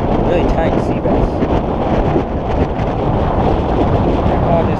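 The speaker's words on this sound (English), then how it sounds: "It's really windy out here." Strong wind buffets the microphone in a loud, continuous roar outdoors on a saltwater fishing dock, with a constant rumbling rush and no break for the whole stretch.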